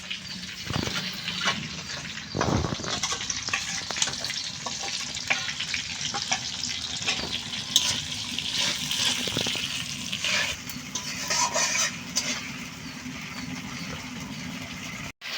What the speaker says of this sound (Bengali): মশলাগুলো ভেজে নেব।